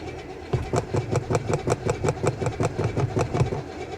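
A 1992 BMW 325ic engine cranks without catching, the starter churning in a steady rhythmic pulse of repeated strokes, close and moderately loud, without firing up.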